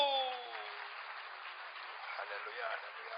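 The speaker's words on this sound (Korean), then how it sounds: "영광의 박수." A church congregation gives a steady round of applause during a sermon, a dense even wash of clapping that holds from start to finish at a moderate level.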